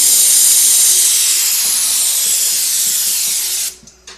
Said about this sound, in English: This is what you can do with air pressure on an airbrush.